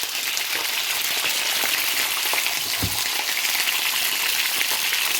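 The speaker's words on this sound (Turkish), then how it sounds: "Kızartmamız şöyle hafiften bir kızaracak." Stuffed-pepper peppers sizzle steadily in hot oil in a pan, a dense, continuous crackling close by with no talk.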